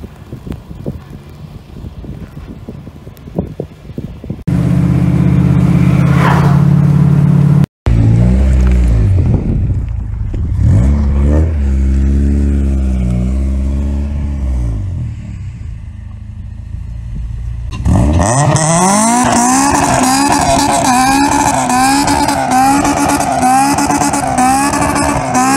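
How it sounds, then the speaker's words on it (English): A Toyota car revs hard and spins its tires in a parking lot, loud engine roar rising and falling in long bursts with wind buffeting the microphone, a brief dropout midway, then a sustained high-pitched screaming rev toward the end. "Hear the power of that Toyota?"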